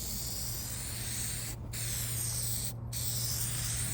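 A steady aerosol spray of car headlight sealing coating hisses continuously at close range, broken by two brief pauses, over a low constant hum.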